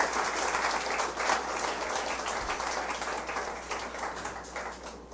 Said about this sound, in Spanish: Dé un aplauso al Señor Jesús.